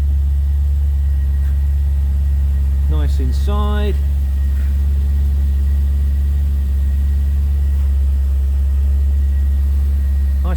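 A 1996 MG RV8 sits idling, its engine a loud, steady low rumble throughout, while someone speaks briefly over it.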